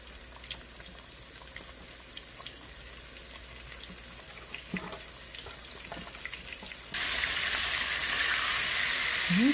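Shrimp deep fry in oil deep enough to cover them, making a soft continuous sizzle with scattered pops that swells into a louder, harsher hiss over the last few seconds.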